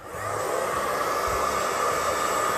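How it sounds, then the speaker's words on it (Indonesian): Hair dryer blowing steadily at close range while being used to pop popcorn, a continuous loud rushing whoosh with a faint low rumble underneath and no voices. "Lah, ini lagi di hair dryer."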